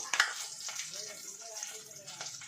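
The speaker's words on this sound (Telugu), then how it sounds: "ఉల్లిగడ్డ వేసినప్పుడే నేను కరివేపాకు వేస్తాను" Onions fry with curry leaves and salt in a pan for a Telugu village-style brinjal curry, giving a soft, steady sizzle with light stirring scrapes and a brief clatter at the start.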